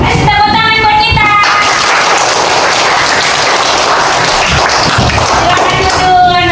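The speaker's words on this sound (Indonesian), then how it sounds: "Tepuk tangan buat kita." Children in a classroom clap their hands together in a loud, dense burst of applause that fills the space, with voices audible briefly at the start and end.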